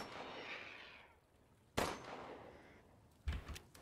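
Two sharp gunshots sound in Resident Evil Village, spaced a second or two apart over a low, rushing ambient backdrop. Both blasts are close and punchy, and the second one has a heavier low thump.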